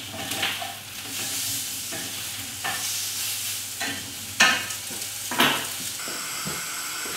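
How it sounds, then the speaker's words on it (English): Asparagus spears sizzle on a hot griddle pan, a steady frying hiss broken by several sharp bursts and clatters as the spears are turned over, close and fairly loud with no talking. "You're going to chuck that onto your griddle pan, and then with that we're just going to turn that over."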